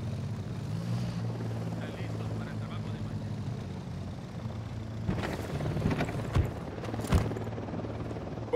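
A helicopter in the video game Ghost Recon Wildlands drones steadily with a low rotor hum throughout, joined by a few sharp, loud bursts in the second half.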